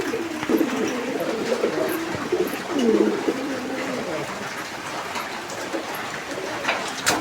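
Madrazi Golla pigeons coo softly and repeatedly at close range, low rolling calls over a faint steady background.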